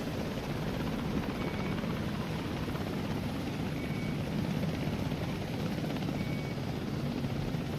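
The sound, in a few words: helicopter in the video game Wardogs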